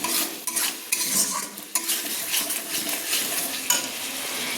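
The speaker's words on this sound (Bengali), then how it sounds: "দেখুন কি সুন্দর মশলা থেকে তেল ছাড়ছে, একটা মশলা থেকে সুন্দর গন্ধ বেরাচ্ছে।" Spice paste for chicken do pyaza fried and stirred in oil, with a steady sizzle and repeated scraping and clinking spoon strokes against the pan, close up and without talk.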